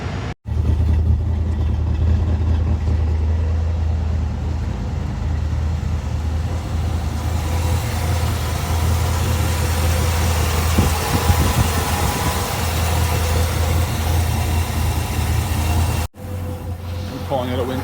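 A 1964 Buick LeSabre V8 with freshly repaired exhaust idles steadily and close by, a constant low rumble broken only by two brief cutouts.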